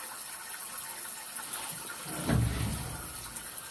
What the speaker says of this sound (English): I want to see this right here, where all this water is going